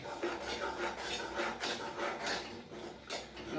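Ghee Mysore pak batter being stirred in a pan, a steady scraping and rubbing that rises in repeated strokes, fairly close and continuous throughout with no talk.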